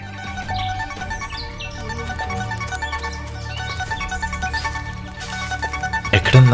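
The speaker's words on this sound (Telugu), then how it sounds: "రింగ్ అవుతుందా? రింగ్ అవుతుంది" A mobile phone rings somewhere out of sight in a room, a steady repeating ringtone pattern that carries on for several seconds and swells louder toward the end.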